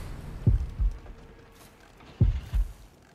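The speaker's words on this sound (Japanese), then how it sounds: "心音が鳴り始めましたね。" In the horror game Horrorfield, a slow heartbeat thumps twice as two low double beats spaced well apart, deep and muffled against near silence.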